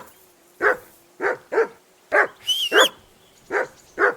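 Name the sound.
dog barking, from video game Kingdom Come Deliverance II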